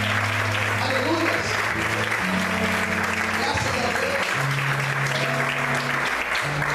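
Congregation applause during a church sermon, continuous clapping under sustained tones from music or voices, with speech mixed in.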